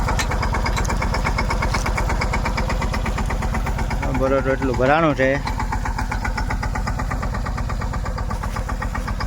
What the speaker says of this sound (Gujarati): જો મુનાભાઈ ટ્રેક્ટર આગળ લે છે.